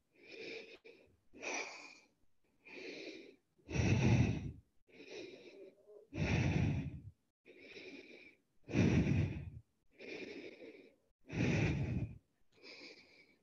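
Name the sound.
deep breathing during a plank exercise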